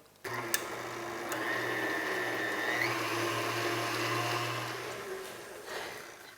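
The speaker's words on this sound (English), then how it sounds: "I'm going to turn it on and I'm going to beat it for about 2 or 3 minutes" An electric mixer beats lard for sweet tamales, starting abruptly and running as a steady whirring motor hum for several seconds before winding down, heard close with a few clinks against the bowl.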